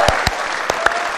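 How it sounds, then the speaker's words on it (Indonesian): Studio audience applause on the Indonesian Deal or No Deal game show, a short loud burst of clapping with a few sharp individual claps standing out. "Tepuk tangan ya."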